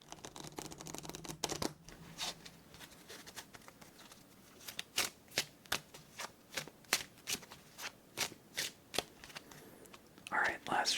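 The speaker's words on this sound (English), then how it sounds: "Alright, last shuffle." Playing cards being shuffled for a solitaire game: soft riffling at first, then a steady run of sharp, close, evenly spaced card snaps and bridges, heard alone without talking.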